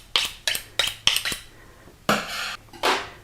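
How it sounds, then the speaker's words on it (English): Metallic scraping strokes as a chef's knife is sharpened, four quick evenly spaced strokes followed by two longer, louder draws, close and crisp, with no talking. "today I'm going to sharpen my knife before I start."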